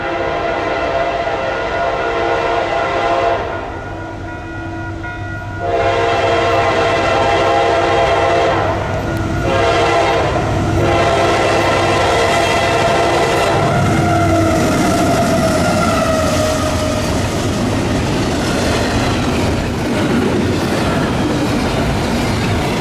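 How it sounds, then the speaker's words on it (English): Norfolk Southern freight train NS-264, led with an NS-4004 DC-to-AC locomotive trailing second, passes at Ogden Dunes on a line alongside the South Shore; several loud horn blasts give way to a rising roar and continuous clattering wheels on rails, close by. "a train we were all anticipating was fast approaching. NS-264 with NS-4004"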